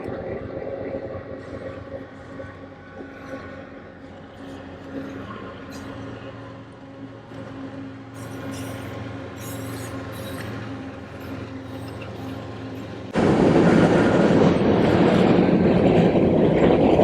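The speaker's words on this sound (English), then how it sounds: "You can see that the train's going across it right now." A train crosses a railroad bridge over the Columbia River in Washington, heard from nearby as a steady rumbling roar. Loud wind buffeting comes in near the end.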